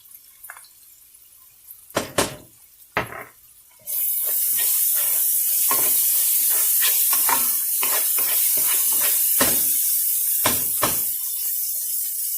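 Chopped green pepper drops into a pan of frying chicken cacciatore, setting off a loud, steady sizzle after a few clattering stirs, with scraping strokes of a spoon recurring through the hiss.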